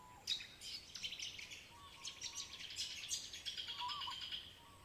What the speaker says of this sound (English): all you hear are the birds going